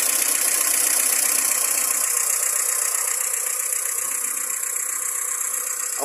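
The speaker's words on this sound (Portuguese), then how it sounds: "Olha o motor como tá calado." A Ford Fiesta's engine idles quietly and steadily, a soft even hum under faint high hiss, with no voices.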